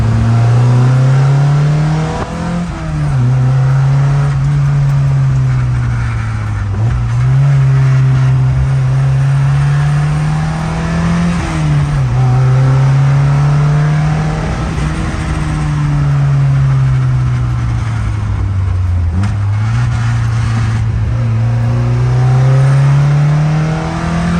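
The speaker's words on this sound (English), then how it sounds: "Webers make all the good noises." A Volvo PV with a worked-over B20 engine fed by twin Weber DCOE 40 carburettors revs loudly and steadily, its pitch rising and falling in long sweeps as it drives past at a car meet.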